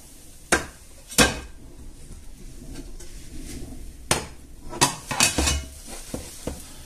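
A Spanish omelette is flipped in a frying pan, producing several clattering knocks of pan and utensil at irregular intervals over a faint sizzle, close up with no talking.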